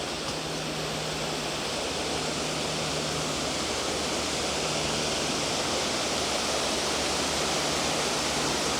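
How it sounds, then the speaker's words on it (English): River water pours steadily over a weir in the Rivelin Valley, a constant, dense rushing roar heard close by without a break or any voices. "Another nice weir here."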